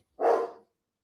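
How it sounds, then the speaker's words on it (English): A single loud, close dog bark, short and sharp, aimed at the mailman, standing alone in silence. "She's barking at the mailman"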